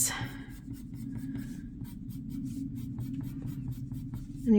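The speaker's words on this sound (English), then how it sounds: "your pencil will stay sharp if you're not pressing super hard" Colored pencil shading across paper for hair coloring, a soft steady scratchy rub in rapid repeated strokes, close and fairly quiet over a low background hum.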